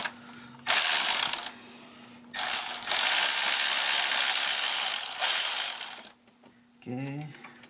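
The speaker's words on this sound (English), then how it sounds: "So we will be using number 10 millimeter socket." A ratchet with a 10 mm socket loosens valve cover bolts on a 2001 Ford Escape engine, producing loud, close bursts of rapid clicking in two long runs, followed by a short spoken remark.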